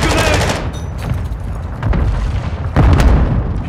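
A grenade goes off amid gunfire in a Call of Duty match, with rapid gunshots at the start, scattered shots through the middle, and a heavy blast near the end that booms and rumbles loudly.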